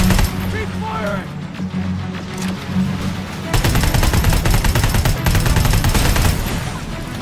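Rapid automatic gunfire in the Terminator Resistance game, a continuous loud rattle that intensifies midway, with shouting voices over it.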